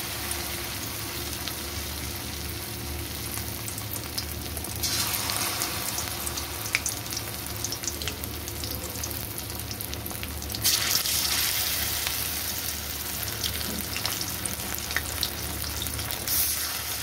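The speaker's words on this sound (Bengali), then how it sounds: "মাছ বেসনে ডুবিয়ে ভাজবো।" Lotte fish dipped in gram flour batter fry in hot oil in a kadai, a continuous close sizzle that swells into louder crackling bursts as pieces go in and shift.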